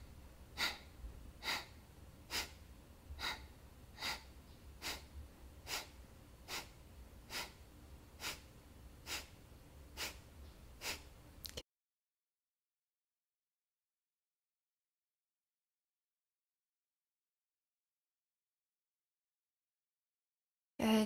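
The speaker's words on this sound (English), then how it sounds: "a quick inhale and a quick exhale" Rapid, rhythmic nasal breathing during an energizing yoga practice, with about fourteen evenly spaced sharp exhales pumped one after another, close and fairly quiet, followed by a long stretch of silence.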